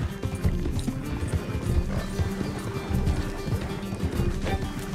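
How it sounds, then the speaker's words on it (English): A horse gallops at a steady pace with continuous, rapid hoof thuds in the video game Red Dead Redemption 2, dense low pounding with no pauses. "Miss Grimshaw, it'd be great if you rode the horse instead of me right now"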